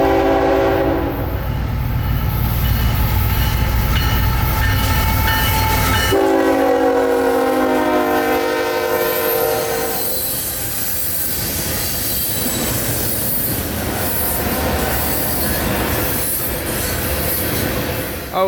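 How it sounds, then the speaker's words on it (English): A loud southbound coal train rumbles past near Bushnell with a sustained horn blast, then squealing, screeching wheels and rolling rail noise that continue steadily. "we moved back down to Bushnell to shoot this coal train coming south"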